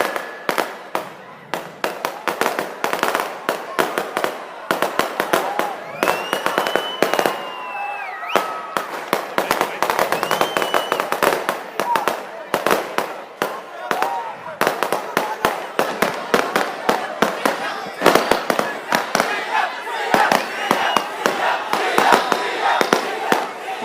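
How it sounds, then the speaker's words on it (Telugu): Firecrackers burst continuously through a large outdoor political public rally in Srikalahasti, a dense, crackling barrage of sharp loud pops over a crowd while someone speaks over a public address system. "క్రాకర్స్ ఎవరో కాలుస్తున్నారు, క్రాకర్స్ కాల్చొద్దండి ప్లీజ్"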